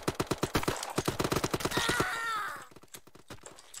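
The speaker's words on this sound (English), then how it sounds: "I'm being shot at from everywhere" Rapid bursts of gunfire in the egg-themed online shooter Shell Shockers, a dense run of close, sharp shots for about two seconds, then a groaning vocal sound and a few scattered, quieter shots.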